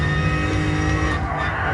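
Race car engine in Gran Turismo Sport during a 15-minute endurance race, a loud, steady high-revving drone that dips briefly as a gear shift comes through, with no talk over it.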